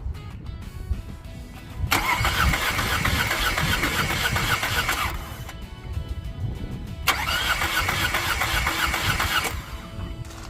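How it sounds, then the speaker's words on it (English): Nissan Qashqai engine cranking over with its fuel pump disconnected, two sustained bursts of steady whirring starter churn of about three seconds each, close by and loud, separated by a quieter pause, with no voices. "We're going to crank it over, see what reading we're getting on cylinder 1"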